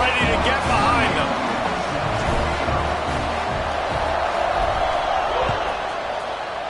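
Football stadium crowd at a college game roars steadily before a kickoff, a dense, loud, continuous wash of cheering and babble with occasional sharper shouts.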